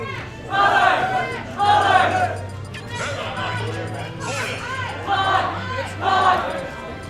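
A crowd at a Super Smash Bros 4 tournament at a convention chants in rhythmic bursts, loud group shouts repeating in a steady cadence with a low hum underneath and voices between chants.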